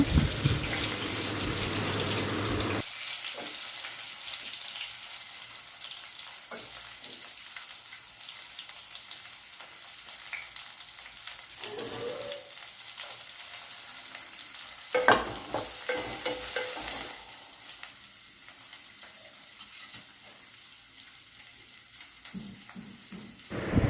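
Chopped onions going into a pan and frying for a chana dal and leafy greens curry, with a soft sizzle and occasional stirring scrapes, fairly quiet and steady.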